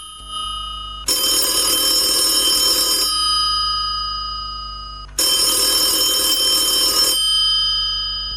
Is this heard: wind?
no